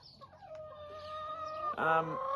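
Chickens cluck and squawk close by, a few drawn-out calls followed by a louder burst of overlapping clucks near the end.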